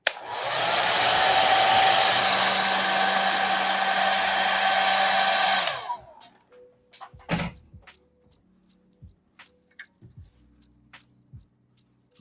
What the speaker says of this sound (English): So now you just reset the surface with the hairdryer.